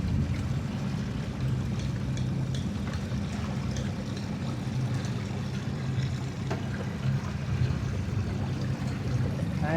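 A boat motoring on the bay at Destin, Florida, its steady low engine drone and water wash running continuously at moderate distance, with wind noise over the top and no voices.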